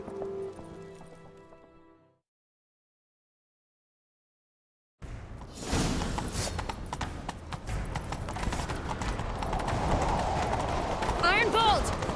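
Horse galloping in The Witcher 3: Wild Hunt: after a short quiet gap, steady rapid hoofbeats run continuously and fairly loud, with voices talking over the ride.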